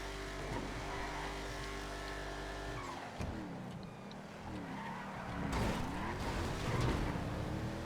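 Race car engines in a GTA FiveM race, with steady revving, shifting engine tones and tire squeals over a continuous low drone, no talk.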